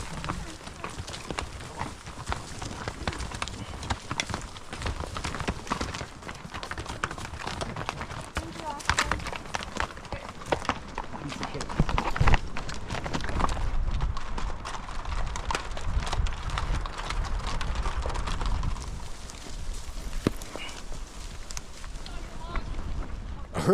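Horses on a spring ranch drive walk a narrow trail through thick timber, hooves clopping in an irregular stream at middle distance, with wind buffeting the microphone and a voice talking over them.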